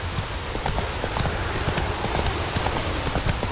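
Steady rain pours in Witcher 3 The Wild Hunt, a dense hiss with scattered drips, while a horse's hooves clop rhythmically underneath, close and fairly loud throughout.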